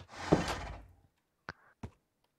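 Two heavy doors shut in a video game, a pair of short separate thuds about a third of a second apart, following a long rumbling burst of noise, with no talking in between.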